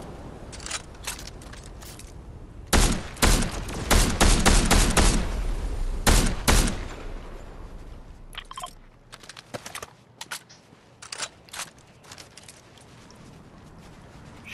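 Video game gunfire arrives in sharp clustered bursts, loud volleys in the early middle, then scattered quieter shots trailing off, with no talk over it.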